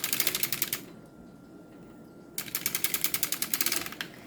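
A circular sock knitting machine being hand-cranked, giving fast, even mechanical clatter in two bursts separated by a short quiet pause, close and alone.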